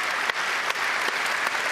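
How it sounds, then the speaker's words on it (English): Audience at a UEFA Coach of the Year award ceremony applauds steadily, a dense wash of clapping that stays loud and even throughout. "I was going to ask you to give this applause afterwards"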